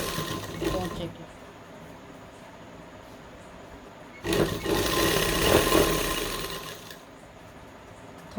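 A sewing machine stitches an Afghani salwar in two bursts of running, a short one at the start and a longer, louder run in the middle, with quiet gaps of talk between.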